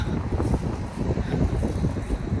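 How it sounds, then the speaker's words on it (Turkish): Outdoor wind gusts straight into the microphone, a steady low blustery rumble that swells and dips without any talking. "Ay çok güzel esiyor."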